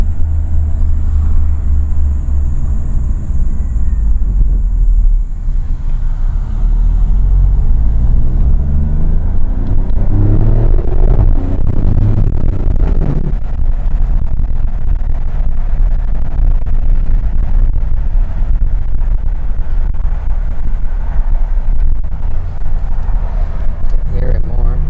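A 2017 Alfa Romeo Giulia Quadrifoglio in dynamic mode, its engine and exhaust giving a deep low rumble that rises into a rev sweep around the middle, loud and close, with people talking over it.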